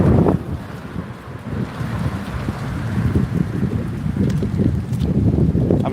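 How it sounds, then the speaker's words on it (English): Steady wind gusting through a North Georgia alpine mountain town, a loud continuous roar with buffeting rumble on the microphone that swells and eases across the stretch, with no voices. "Nice wind coming through here."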